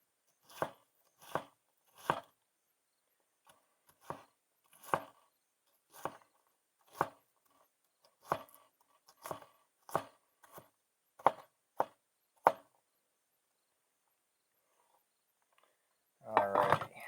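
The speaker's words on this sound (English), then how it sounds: "We're going to chop you until you're done chopping." A knife chops food on a cutting board at a forest campsite, about a dozen steady, crisp, close strikes, then a short rustle at the end.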